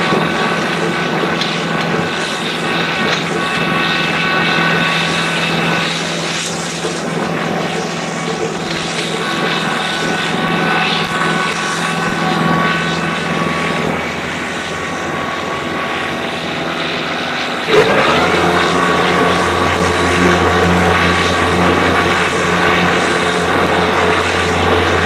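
A 2022 Kubota LX3310 HSD compact tractor mowing grass, a steady loud engine drone with a whirring mower hum that holds for the whole stretch and grows louder and fuller near the end.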